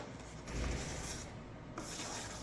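Sandpaper rubbing the main wing pipe of an FMS Cessna 182 Skylane model plane, soft close scraping strokes in a few uneven passes, quiet and continuous.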